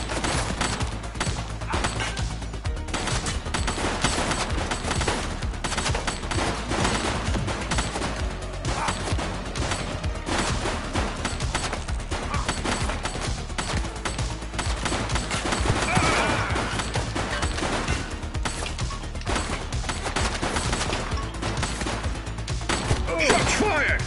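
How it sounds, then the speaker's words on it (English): Sustained heavy gunfire in a video game, dense overlapping bursts of shots and thuds running continuously and loud throughout, with some voices underneath. "Shots fired!"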